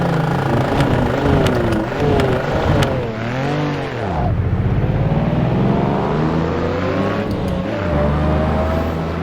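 A Lamborghini Miura engine roars on a hill climb in a racing video game, loud and close, revving up and down through gear changes with sweeping pitch rises and drops.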